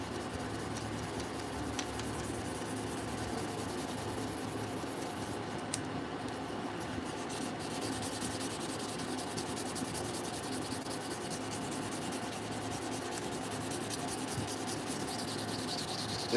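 A stained wooden pipe is sanded by hand, giving a continuous, quiet, gritty rubbing that keeps a steady texture throughout with no talk.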